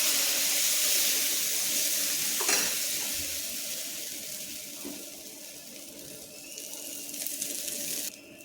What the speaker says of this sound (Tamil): இப்போ கல் காய்து தோசை ஊற்றிக்குவோம்.